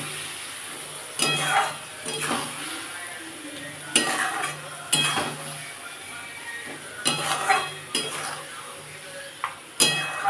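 A spice paste of ground poppy seeds, melon seeds, tomato and green chili fries in oil for a bean dish, sizzling softly while a spatula scrapes and clinks against the pan in irregular bursts, close up.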